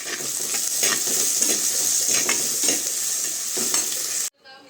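Tomatoes sautéing with onions in a pan, a continuous close sizzle broken by rhythmic stirring strokes, ending abruptly near the close.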